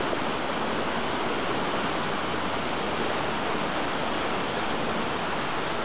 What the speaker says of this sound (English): This movie shows Enegora Creek in flood again in May 2009.